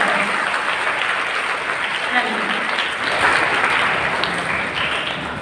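Students applaud steadily at a school literary society's closing ceremony at St. Joseph's, a dense, even wash of clapping that holds at full strength for several seconds without pause.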